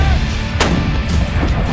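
An artillery gun fires on the gun line as the crew pulls the lanyard, one loud, sharp blast cutting through a dense roar of nearby noise.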